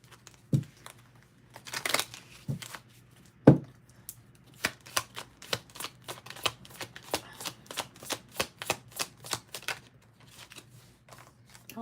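Tarot cards are pushed and shuffled back into a deck with a run of quick, crisp riffling snaps that speed into a steady rhythm, close and clear with no talking.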